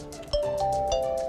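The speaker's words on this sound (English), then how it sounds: "Now, who wants to be first to ring my bell?" Doorbell chime sounding in a studio setting, a sustained ringing tone with a two-note ding-dong strike around a third of a second in, holding steady and fairly loud to the end.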